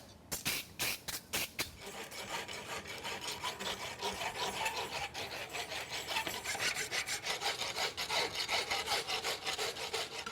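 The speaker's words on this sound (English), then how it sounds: "I'll go to filing on that." A hand file rasps rhythmically over a forged steel horseshoe toe weight, with quick strokes at first that settle into a steady, rapid back-and-forth scraping, close and alone.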